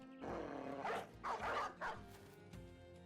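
A dog in the Battle Brothers video game lets out a quick run of three loud barks and yips, close and clear over quiet background music.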